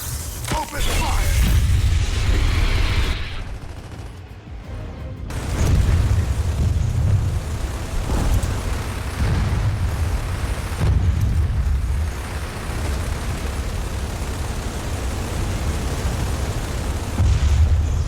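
Heavy gunfire and repeated explosions from a boss fight in the Gears of War 4 video game, with booming bursts and continuous low rumble filling the scene, loud and dense throughout.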